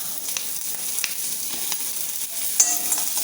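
Urad dal, ginger and torn green chillies fry in oil in a pan for a thuvaiyal, a steady close sizzle with faint scraping as the mix is stirred.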